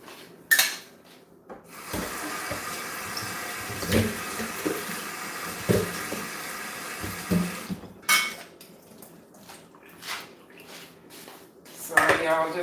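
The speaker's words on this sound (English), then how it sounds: "Just had to rinse those potatoes off just a little bit." Potatoes are rinsed in a kitchen sink under a running tap. Water hisses and splashes steadily, with rubbing, thumps, and dish and clatter sounds in between, and voices can be heard in the background.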